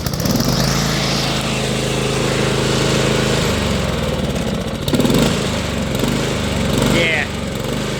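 A Honda lawn mower engine idles close by with a buzzing drone that rises and dips in uneven surges, caused by a clogged idle circuit, with a brief voice talking over it.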